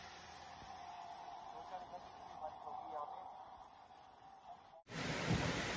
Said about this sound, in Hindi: अभी बारिश होना स्टार्ट हो चुकी है